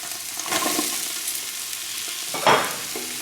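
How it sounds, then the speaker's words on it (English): Vegetables frying in a pot for an oxtail stew give a soft, steady sizzle, with a couple of brief stirring scrapes and a sharper hiss near the end. "we're gonna fry the veggies except for the tomatoes"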